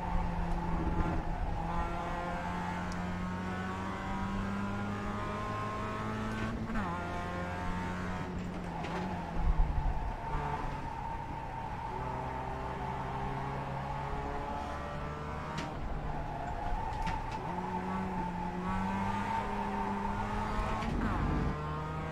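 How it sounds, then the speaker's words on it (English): Racing car in the iRacing simulator, its engine droning and shifting pitch steadily while the tyres squeal under cornering load, a continuous close mechanical whine with no talk. "Listen to those tyres. Not happy."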